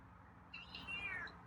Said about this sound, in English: Got some meows today.